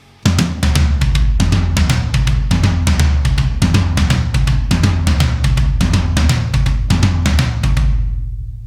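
A steady drum groove from a drum solo, the right hand moving repeated hits across three drums of different pitch, loud and close, with no talking, ending in a ringing decay.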